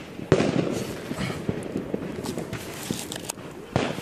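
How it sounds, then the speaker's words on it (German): A New Year's Eve firework battery fires a rapid string of sharp, loud bangs and pops, close and irregular, with crackling between the shots and a strong final burst near the end. "Schuss, Feuerwerk, Batterie."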